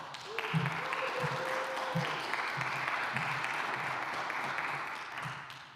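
An audience applauds to welcome opera singers Lisa Hubin and Hugo Vera at a Madama Butterfly preview, a sustained even wash of clapping with a faint tonal hum beneath.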